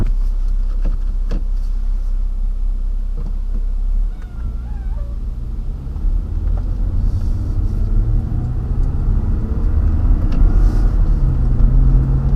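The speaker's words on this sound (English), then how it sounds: "you can have it in 6, drive, and then it'll automatically downshift to 4th." Lexus ES 350 engine drone inside the cabin, a loud steady low hum whose pitch shifts partway through as it drops down to fourth gear, then carries on rumbling.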